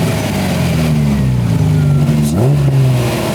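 A Ferrari Testarossa's big 90-degree engine, dusty under the hood, revs loudly and steadily up close, its tone climbing and dipping in a sustained throaty roar with no talking over it.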